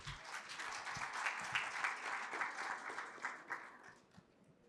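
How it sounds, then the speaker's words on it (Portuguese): Audience clapping for a woman called to the stage at a closing session of a legal conference, a steady round that swells and then tapers off toward the end, heard alone without talk. "Uma salva de palmas."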